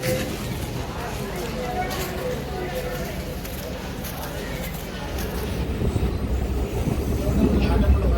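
A train pulls out of Nizamabad Junction, India, rolling along with low rumbling and rail clatter, growing slightly louder toward the end, with voices mixed in.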